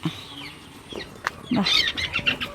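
Hens kept in a backyard coop with ducks give a few short clucks and soft chirpy calls. The calls come close and at moderate volume, grow busier toward the end, and faint background noise runs under them.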